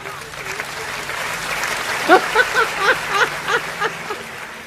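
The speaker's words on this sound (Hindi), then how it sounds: "तो एक बार इनके लिए तालियां बजा दो" Audience applause at a Hindi poetry gathering, a steady wash of clapping from a large crowd with a few voices and rhythmic bursts of cheering rising over it.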